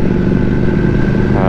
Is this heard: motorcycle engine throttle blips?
yes